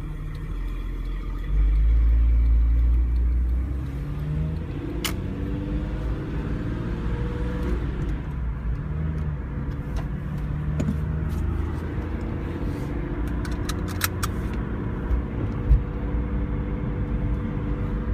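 2002 Porsche 911 Carrera 4S with 105,000 miles idling while it warms up after startup, a steady, loud and close low rumble with occasional faint clicks.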